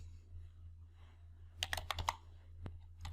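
A quick burst of computer keyboard keystrokes, close and crisp, typing a few characters into an Excel formula over a faint steady hum in a quiet room.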